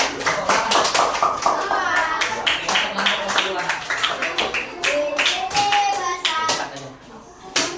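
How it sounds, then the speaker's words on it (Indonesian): A classroom of students claps for a group that has just presented, a lively patter of many hands close by with children's voices mixed in throughout. "Silakan kasih tepuk tangan untuk kelompok"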